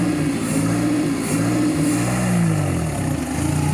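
A vintage rally car at the Tulpenrallye, its engine driven by a large supercharger mounted on the front bumper, runs with a loud, steady droning rumble that wavers slightly in pitch throughout.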